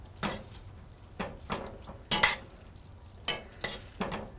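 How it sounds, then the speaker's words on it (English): Spaghetti with sun-dried tomatoes, parsley and oil is stirred in a pan, giving soft, irregular scrapes and clinks of a utensil against the pan with a faint sizzle, quiet and close. "just start stirring this up to coat this with sauce and oil"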